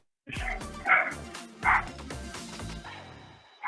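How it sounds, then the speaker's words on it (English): Several dogs bark and yip nearby in short bursts, with a few sharper barks standing out and faint whimpering between. "Sorry for the dogs if you can hear them."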